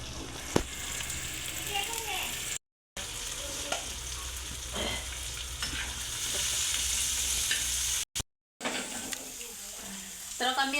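Red chillies roasting and being stirred in a pan with onion and garlic, a steady sizzle with scraping stirs throughout, briefly cut off twice, while people talk in the background.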